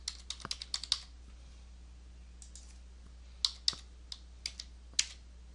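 Position numbers typed on a computer keyboard: irregular clusters of light, close key clicks with short pauses in between, alone without any talking.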